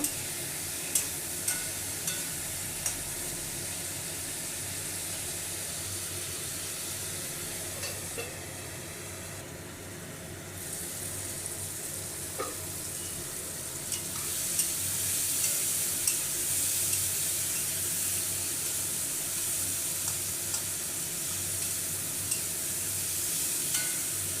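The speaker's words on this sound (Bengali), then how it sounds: "হলুদ সব রকম মশলা দিয়ে আমি এবার বেশ কিছুক্ষণ কষিয়ে নেব" Turmeric, salt and mixed spices sautéing with a curry for a Bengali potato dish with lentil fritters, a steady soft sizzle and hiss in the pan with occasional stirring scrapes, fairly quiet and without voices.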